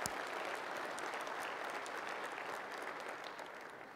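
Applause from a conference keynote audience for an engineering award winner, a broad, even wash of many hands clapping at a distance, sustained for several seconds and slowly easing.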